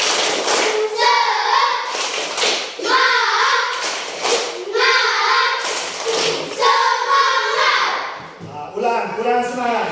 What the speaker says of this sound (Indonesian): Berdiri. Tepuk semangat.